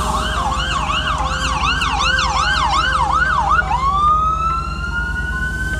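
An emergency-vehicle siren of a police car or ambulance in a city neighborhood, loud and near, wailing in a fast rising-and-falling pattern before settling into a long steady rising tone.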